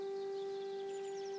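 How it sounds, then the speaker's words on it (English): An old World War II air raid siren wails from a distance, a single sustained steady tone that stays fairly faint and unbroken throughout. "An old World War II bomb siren"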